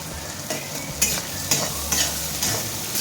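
Garlic and ginger sauté in a hot pan, a bright continuous sizzle close by, with rhythmic spoon strokes scraping through it about every half second.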